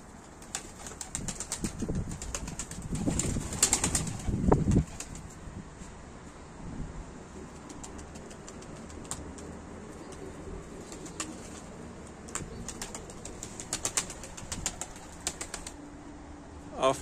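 Bursts of wing flapping from a bird, busiest early on, followed by quieter scattered rustles and taps with faint background noise.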